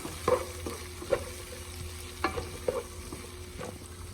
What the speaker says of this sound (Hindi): अब इस मौके पे शिमला मिर्च शामिल करने लगा हूँ। शिमला मिर्च को भी 1-2 मिनट के लिए, ज़्यादा बिल्कुल नहीं भूनना।